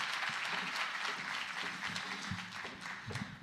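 A lecture audience applauds before a keynote talk on chronicles and history begins, a steady wash of clapping from many hands that holds evenly throughout without pause.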